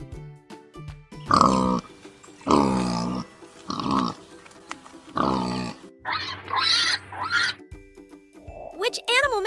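Warthog grunts and snorts come in several separate bursts, close and fairly loud, with short gaps between them and a higher squeal at the end.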